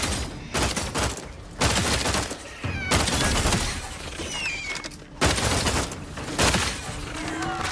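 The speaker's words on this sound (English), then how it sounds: "Stun weapon ready, Commander. Locking them down." Bursts of weapon fire from a stun weapon in The Outer Worlds 2 during a combat encounter, with loud repeated volleys separated by brief pauses and faint voices mixed in.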